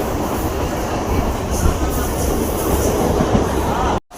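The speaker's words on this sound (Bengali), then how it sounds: "আমাদের ট্রেন কিন্তু ছেড়ে দিয়েছে" Moving passenger train heard from inside a carriage, a loud steady rumble with rhythmic wheel clatter and faint squeals, cut off briefly near the end.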